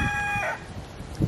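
A rooster crows once nearby, a short bright call, followed by softer farmyard rustling.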